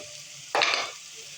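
Chopped onion with a little salt sautéing in a pan for a Belgaum-style dry crab masala, heard as one brief burst of sizzling from a single stir, then a low steady frying hiss.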